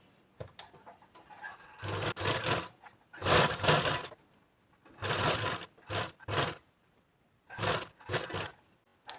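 A sewing machine stitches blouse fabric in several bursts of rapid mechanical whirring, each lasting about a second, separated by short pauses, close by and fairly loud.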